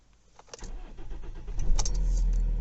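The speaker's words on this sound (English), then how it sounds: "it's not firing immediately, but it's not taking half a dozen or a dozen turns to start" A Kia or Hyundai diesel engine with a fuel line leak cranks for a few quick turns, then catches and settles into a loud, close idle.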